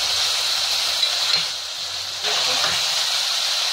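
Tomatoes cooking in a pan make a steady frying sizzle and hiss, with faint stirring underneath and a brief rise in intensity partway through.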